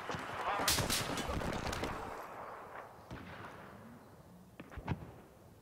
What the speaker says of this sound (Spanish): Madre, me están disparando todos estos